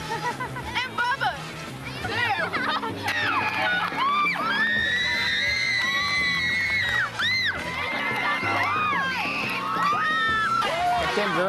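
Girls in a high school football crowd screaming at a touchdown, a dense, sustained chorus of high shrieks and cheers that swells and holds for several seconds, close and loud, with voices talking beneath.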